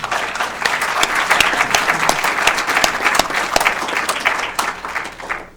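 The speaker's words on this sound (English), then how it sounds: "I just want to give you a big round of applause." A room of people at a school board meeting breaks into a big round of applause, sharp individual claps standing out from the steady crowd clapping, which thins and tapers off at the end.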